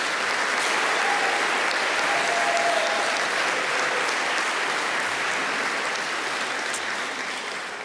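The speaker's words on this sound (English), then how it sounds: "A big round of applause." Sustained applause from a large crowd at a morning graduation ceremony, a loud, continuous roar of clapping holding steady for several seconds before easing slightly.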